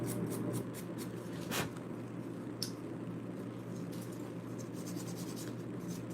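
Freshly top-coated fingernails shaped with a nail file, soft close scratchy rasping strokes over a steady low background hum, with no speech.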